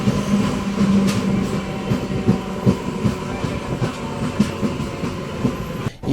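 A MEMU passenger train pulls away from the small Rajapur halt after a one-minute stop, with a steady, loud rolling rumble and repeated wheel clicks over the rails throughout.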